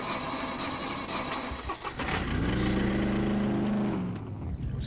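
A vehicle engine in the SCUM video game cranks briefly, then catches and settles into a steady, humming idle that fades slightly toward the end, heard alone without talk.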